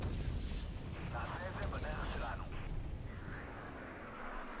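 Rocket artillery fire in Wargame: Red Dragon, with a continuous rumbling barrage of launches and impacts over several seconds and a steady low roar underneath.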